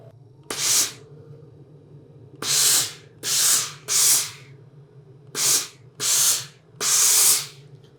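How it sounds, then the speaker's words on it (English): A steam iron gives seven short, loud bursts of hissing steam, each lasting under a second, spaced irregularly over a low steady hum. "It's just my water heating up, using too much steam."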